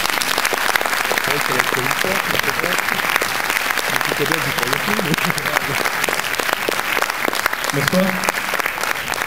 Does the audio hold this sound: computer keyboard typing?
no